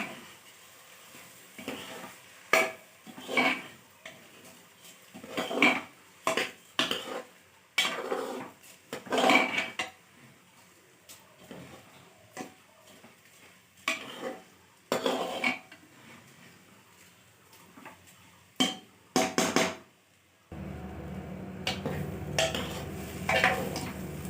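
Soaked rice is tipped into a pot and stirred for Assamese egg biryani, a series of scraping clatters of a spoon against metal coming in irregular bursts with quiet gaps, then a steady sizzle toward the end.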